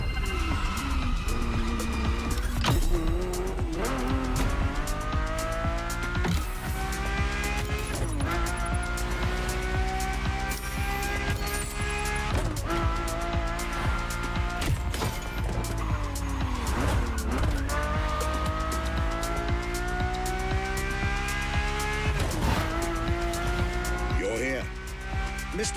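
A Ferrari F50 in The Crew Motorfest races along with a loud, steady engine note that rises and falls through gear changes, with tire squeals mixed in and continuous music-like harmonics the whole way through.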